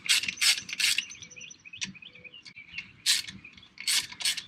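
A ratchet wrench clicks in quick bursts while loosening bolts on a 1997 Ford 7.3 Powerstroke diesel truck. The crisp metallic ratcheting comes close and moderately loud, with faint birds or insects behind it.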